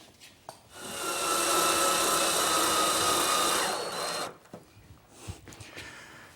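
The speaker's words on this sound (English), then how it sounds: "Now I'm just going to use some temporary screws to hold this in place so I can finish the face frame on this center unit." A power tool runs steadily for about four seconds while temporary screws are driven into a wooden cabinet face frame on a library-style center unit, loud and close. It is followed by a few faint clicks and knocks.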